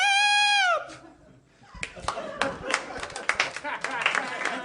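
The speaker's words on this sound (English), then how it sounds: "You guys are clapping wearily like anyone asked you to clap." Live comedy podcast audience giving sparse, scattered, half-hearted claps that start after a sustained sung vocal note ends, uneven and moderately close, with voices mixed in.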